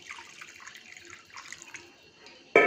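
Water splashes from a vessel into a pan of simmering masala curry, a soft trickling wash followed by a sudden louder pour at the end.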